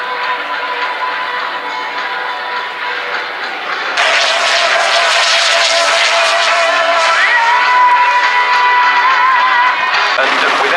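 At an RIAT airshow at Fairford, a display aircraft turns and joins final for landing, a loud continuous engine roar that jumps abruptly in intensity partway through, with faint crowd noise underneath.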